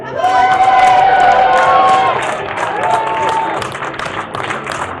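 A crowd at the Great Alaskan Lumberjack Show in Ketchikan, Alaska, applauds and cheers loudly with whoops and shouts, swelling at first then settling into scattered clapping.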